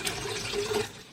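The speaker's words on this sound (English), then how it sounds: "I'm going to put a little water in my blender jar." Water pours into a blender jar, a brief steady liquid fill running close and fairly loud, with no talking.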